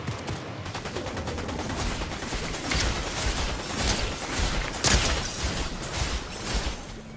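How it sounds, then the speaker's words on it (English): Gunfire in Fortnite, rapid crackling bursts of shots in quick succession, fairly faint and continuous over a dense game background without speech. "Gunfire."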